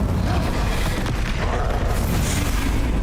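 A dense, sustained roar of fire magic from the Incendio spell in Hogwarts Legacy, loud and continuous, with a broadband burning rumble that never lets up across the whole clip.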